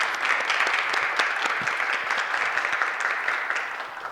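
A church congregation at a Christmas service claps together in a warm, dense burst of applause that holds steady for a few seconds before easing off slightly.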